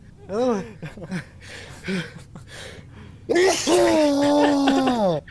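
A person sneezes loudly and close by during a casual gaming session, after a few gasping breaths and short vocal sounds; the sneeze is drawn out and strained, with a groaning tail.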